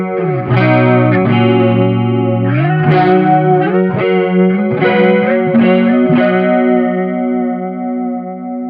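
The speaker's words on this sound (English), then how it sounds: "if you turn it up more, you're going to introduce more chorus signal" A guitar through a Sonicake chorus pedal with the effect level at full plays a sequence of sustained chords alone, the tone loud and shimmering with a strong wobbling modulation that lingers and fades at the end.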